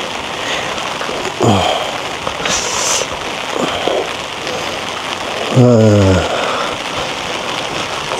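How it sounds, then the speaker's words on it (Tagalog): Steady rain patters throughout in a cemetery at night, with a person talking intermittently in Tagalog and a brief louder rustle partway through. "Ang hirap umuulan."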